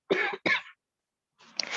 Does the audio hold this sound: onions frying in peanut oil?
no